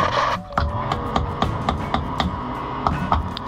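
A wrench repeatedly striking a part on a boat's outboard during percussive maintenance, sharp metallic knocks in an irregular rhythm over a steady running-engine drone, close and fairly loud.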